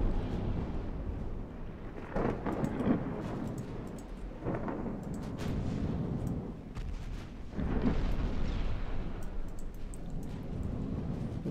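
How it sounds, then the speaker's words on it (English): Heavy naval gunfire from warships in the Ultimate Admiral Dreadnoughts game, with deep booming salvos rolling out over a continuous rumble and fading into broad, thundering echoes. "Aiming shots going out"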